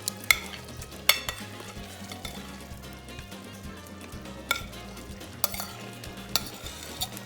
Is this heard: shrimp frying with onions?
yes